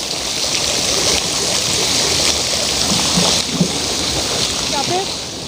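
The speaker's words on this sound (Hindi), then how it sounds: "देखिए ऊपर से पानी टपक रहा है" Water dripping and splashing down from above in a wet outdoor spot, a dense steady patter like heavy rain that stays loud and continuous, with occasional splashes closer by.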